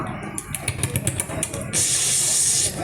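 A voice imitates an omelette sizzling on a roadside stall griddle: a run of short hissy puffs, then a steady, loud frying hiss that holds for about a second before cutting off.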